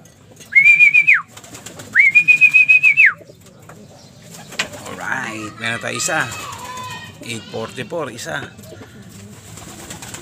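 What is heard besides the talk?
pigeons cooing and arriving at loft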